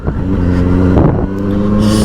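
A Benelli 600i superbike engine revving high past 7000 rpm, a loud, close, continuous tone with strong harmonics and a brief dip midway before holding steady.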